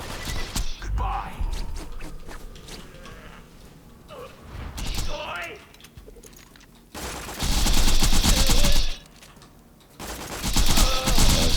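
Gunfire from the Borderlands 3 video game, fired in loud rapid bursts with pauses between volleys, some sharp and close, mixed with mechanical game effects and occasional talk underneath.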